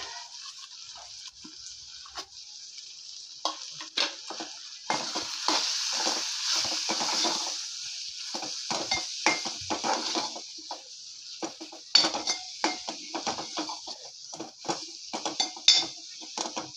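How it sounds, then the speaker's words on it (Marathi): Spices being stirred into dal frying in a pan, with a steady soft sizzle and repeated scraping, clinking strokes of a spoon against the pan, close and moderately loud, with no talking. "डाळ परतल्यावर आपण त्यात हे सर्व मसाले मिक्स करून घेणार आहोत।"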